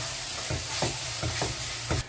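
Green masala frying in a pan for mutton curry sizzles steadily while a spoon stirs it, giving several soft scraping strokes at an uneven pace, close by with no talk.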